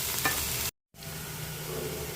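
Garlic, ginger and tomato sizzle steadily in a hot pan while being stirred, a continuous close frying hiss broken by a brief silent cut.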